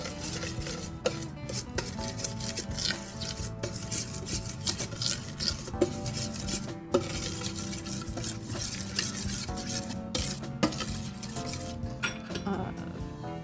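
Bath bomb ingredients, citric acid among them, stirred in a bowl, giving a steady close scraping and rubbing of a utensil against the bowl, with faint clinks, continuous throughout and without talk.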